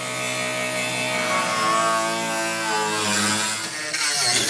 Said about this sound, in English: I'm going to take a cutoff wheel and cut out this C section